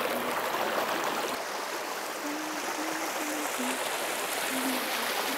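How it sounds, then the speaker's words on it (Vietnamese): A babbling stream at Suoi Tam pagoda in Vietnam gives a steady, dense rush of flowing water throughout, with faint high tones drifting above it and no talking. "Khi mình di chuyển thì mình mới lắng nghe thấy là tiếng suối đây róc rách"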